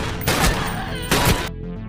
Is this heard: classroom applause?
no